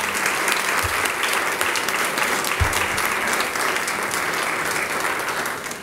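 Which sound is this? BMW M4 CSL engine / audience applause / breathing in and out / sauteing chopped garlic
audience applause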